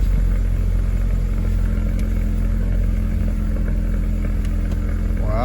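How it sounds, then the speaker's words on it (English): A 2008-2012 Ford Escape engine running just after starting, a loud, steady, low rumble that fills the whole stretch with no talking. "Go ahead and start the car."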